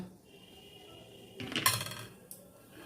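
A tawa griddle pan set down on a kitchen stove gives a bright metallic clank with a brief ringing tail, followed by a smaller tap against a quiet kitchen background.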